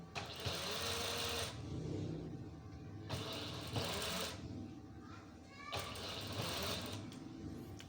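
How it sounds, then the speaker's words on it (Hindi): A sewing machine stitching lining fabric, running in three loud, close bursts of steady whirring with short pauses between them. "अब आपने यूं ऐसे सिलाई लगानी है।"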